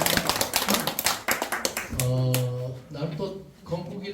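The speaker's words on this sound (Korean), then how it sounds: "다시 한번 한번 어, 감사의 박수 치겠습니다" A church congregation in Seoul claps in thanks at a first-anniversary service, a brisk patter of hands for about two seconds before voices and tones take over.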